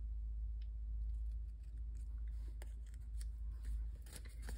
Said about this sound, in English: I'm trimming a little underneath